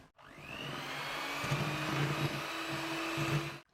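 A mixer whirs steadily through coffee and walnut loaf batter, a sustained motor drone at even loudness that starts and stops abruptly.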